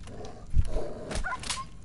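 A dog barks in the video game Fallout 4, a few short sharp yelps over a low rumbling game soundtrack, fairly close and moderately loud.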